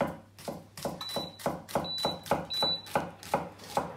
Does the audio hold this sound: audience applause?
no